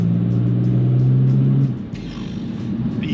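A BMW E92 330d diesel engine drones steadily from inside the cabin while driving, a low rumbling tone that drops off partway through as the revs ease.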